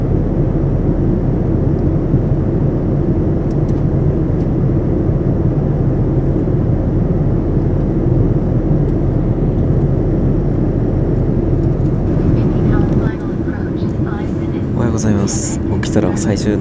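Airplane cabin on an ANA overnight flight to Bangkok, a loud, steady low engine and air roar that fills the whole stretch, easing slightly near the end as a few faint clinks appear.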